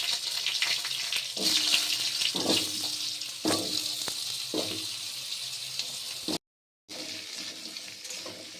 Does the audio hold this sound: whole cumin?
yes